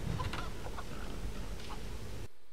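Chickens cluck softly in a few short, scattered calls over a faint background hum in the Tomb Raider video game, then the sound cuts off abruptly.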